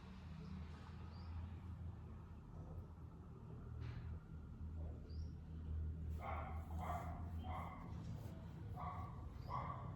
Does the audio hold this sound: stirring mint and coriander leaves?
no